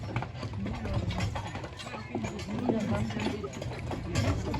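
Carriage horses clop along at a walking pace while pulling a tour carriage on Mackinac Island, the hoofbeats plain under a guide's steady narration.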